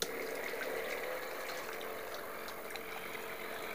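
An onboard water pump runs on a battery-powered RC catamaran, a steady whirring drone with water gurgling and flowing close by, unbroken for the whole stretch.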